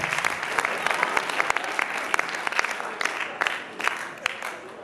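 Sustained audience applause fills the hall at a Purim shpiel stage performance, steady dense clapping with sharp individual claps standing out, loud and continuous throughout with a faint murmur of voices underneath.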